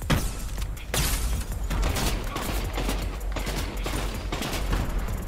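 Deadpool fires guns in a video game: rapid bursts of gunfire with mechanical clatter, loud and close, in repeated volleys with brief pauses.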